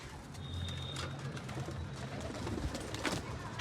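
Pigeons coo softly in low, repeated murmurs close by, with a faint chirp and some background rustling and ambient noise.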